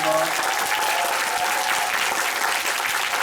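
Audience applause at a film talk event in a cinema hall, a loud, dense and sustained wash of clapping from a large crowd, with a voice briefly audible at the start.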